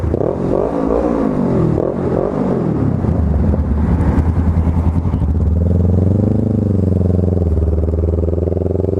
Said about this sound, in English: Get a rev bomb.